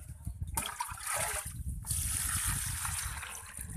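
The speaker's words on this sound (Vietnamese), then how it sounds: "Giờ chúng ta sẽ đi rửa nước cho nó sạch nha các bạn." Tap water runs steadily while water pepper greens are rinsed clean at home, a close, splashing, gushing stream that briefly drops off and then resumes.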